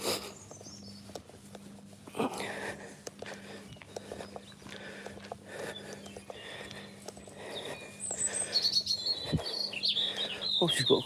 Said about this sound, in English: I find it very relaxing at this time of the morning with the birds chirping away